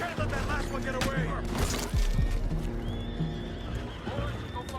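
Horses in Red Dead Redemption 2 whinny and neigh loudly up close, over steady hoof clip-clop and galloping, with game voices talking in the background.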